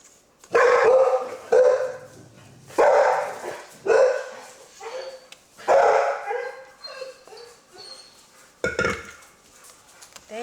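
Dogs bark in loud, repeated bursts close by, with short yips between them and brief pauses, and no talking.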